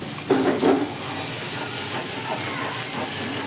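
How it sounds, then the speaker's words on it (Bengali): Ginger paste fries in hot oil over a lowered gas flame while being stirred, giving a steady sizzle with a brief voice heard near the start. "আদাটাকে হালকা আমি নেড়ে নেব।"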